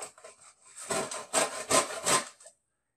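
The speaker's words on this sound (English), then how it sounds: "All you do is you take a grater like this and take it on the coarse end," Horseradish root rasps on the coarse side of a grater in four or five close, rhythmic strokes, each a gritty scrape, before stopping into silence.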